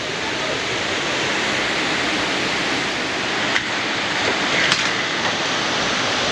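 A rainforest waterfall near jungle caves roars as a loud, constant, broadband rush of falling water, close and unbroken throughout, with a couple of faint knocks.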